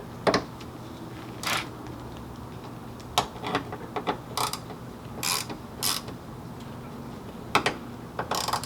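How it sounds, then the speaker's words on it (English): A wrench tightens a bolt on a rear light bracket with a series of quiet, separate ratcheting clicks and short bursts spread irregularly over several seconds, close by, with no talking. "Give this a quick tighten."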